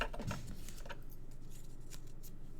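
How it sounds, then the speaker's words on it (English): Card paper is cut to size for a handmade card, giving a brief soft slicing rasp near the start followed by faint, quiet rustling. "this I'm going to cut at 3 7/8 by 5 5/8."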